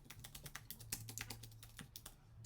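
Computer keyboard typing of a paycheck amount, a quick run of light, close key clicks with uneven rhythm throughout, no voices.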